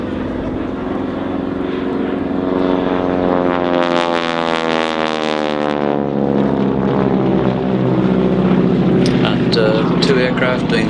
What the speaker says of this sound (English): those propeller tips are actually going supersonic. That's the noise that you can hear.